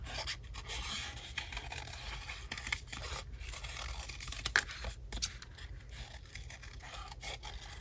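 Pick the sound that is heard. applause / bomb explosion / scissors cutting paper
scissors cutting paper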